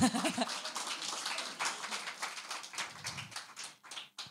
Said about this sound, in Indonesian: Kok kurang semangat ini tepuk tangannya?